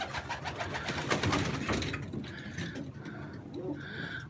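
Low, soft cooing from Osmaniye flight pigeons close by, repeated in short phrases over a rustling, scratchy background of birds moving about.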